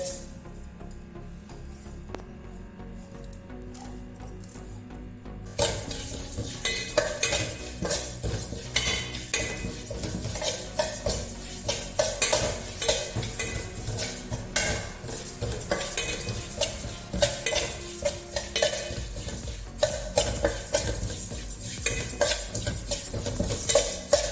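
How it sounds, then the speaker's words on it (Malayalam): Rice dry-roasting in a heated uruli: after a quiet opening, grains hit the hot vessel and a busy, continuous rattle of stirring and scraping with a ladle against metal carries on loudly to the end. "ഉരുളി വെച്ചിട്ട് ഇത് ചൂടായിട്ടുണ്ട് ഇതും അരി വേറെ വേറെ വറുത്തെടുക്കണം ഇത് ഞാൻ ആദ്യം ഇടുന്നുണ്ട്"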